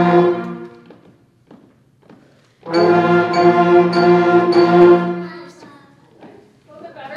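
A sixth-grade school band plays a few short, detached notes, then a full sustained chord for a couple of seconds before dropping back to scattered quiet notes, in an indoor room.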